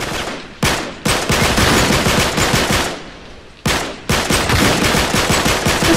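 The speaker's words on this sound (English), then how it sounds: "This is how my AK uses fire." An AK rifle fires in the video game Uncharted 3, loud sustained bursts of automatic gunfire broken by brief pauses, close and alone with no talk.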